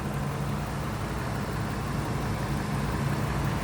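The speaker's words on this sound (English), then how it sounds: "It's a Ford Triton" A replacement Ford Triton 6.8-liter V10 runs steadily in a 2006 Ford E-450 box truck, giving a constant low, even drone with no revving and no voices.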